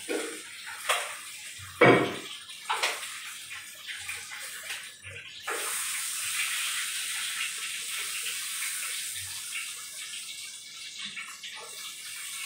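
Water pours into a cooking pot for a short while, then settles into a steady, close rush of running water that holds for several seconds with no talk over it.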